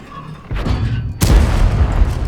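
A loud, deep boom of a shell striking a tank in World of Tanks, following a softer rumbling thud, with heavy low-end impact and a sustained roaring decay.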